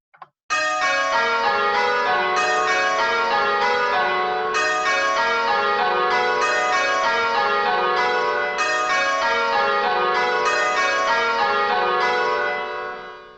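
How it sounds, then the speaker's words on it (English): Church bells ring changes in a steady, continuous peal of overlapping bright strokes, the sequence falling into repeating rounds with one pair of bells swapped in order; no voices. "Which pair of bells was that at that time?"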